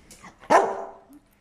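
A dog gives a single short, sharp bark at close range, preceded by a faint soft yip, then quiet.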